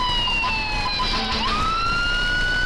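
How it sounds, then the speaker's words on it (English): Fire truck sirens wail steadily through a small-town festival parade in downtown Rochester, Indiana, with several rising and falling siren tones overlapping continuously and loudly over street noise. "You see all the fire trucks coming."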